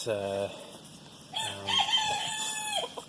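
A black Wyandotte cockerel crows twice, a short opening call followed by a longer, ringing crow that ends with a drawn-out note, loud and close with no talk over it.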